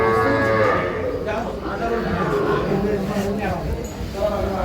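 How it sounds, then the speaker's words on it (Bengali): Sahiwal bull calves mooing close by with low, drawn-out calls at a cattle market in Sylhet, while people talk over and around them. "হাবিবুর ভাই হ্যাঁ, গরুগুলো দেখান তো সুন্দরভাবে"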